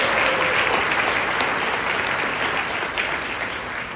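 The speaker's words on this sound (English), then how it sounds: "let's give her a big round of applause" An audience claps steadily for a few seconds at a fifth-grade Christmas band concert at a school, dense and even, fading slightly toward the end.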